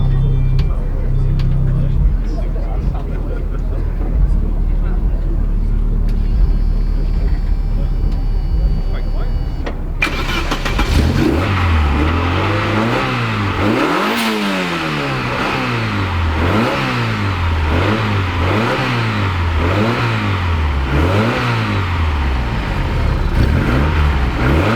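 A Vauxhall car engine at an indoor arena show revs up after a stretch of crowd noise and chatter, then settles into a loud, rhythmic rise-and-fall of repeated throttle blips close by, with voices underneath.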